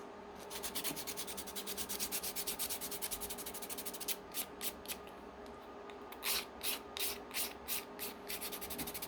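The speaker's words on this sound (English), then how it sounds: "Give that a nice little sand just to straighten that up." Quick, rhythmic sanding strokes rasp over plastic parts of a Johnny 5 toy model kit, close and fairly soft, over a steady background hum, with short bursts of faster rubbing toward the end.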